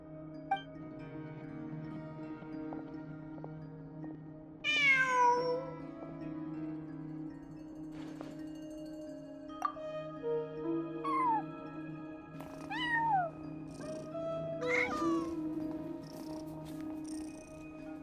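In the Genshin Impact video game, a cat gives a few short rising meows over a steady, soft in-game hum, the calls spaced apart and fairly close, with no speech.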